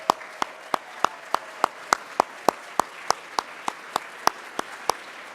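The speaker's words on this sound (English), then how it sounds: "I'd like for the classified staff to stand up and everyone else clap for them." An audience applauds staff standing up at a college awards ceremony. Sharp, regular claps stand out close by over a steady wash of crowd clapping, with no talking.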